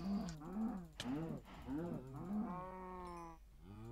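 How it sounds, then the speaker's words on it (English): Cows from the video game Minecraft give long, rising and falling moos, several in a row, close and fairly loud with no speech over them. "Whoa, charging cows."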